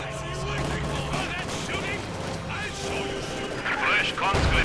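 Machine gun fire from penal troops in a Company of Heroes 2 2v2 match, rattling in sustained bursts amid explosions and battle noise, with a commentator talking over it.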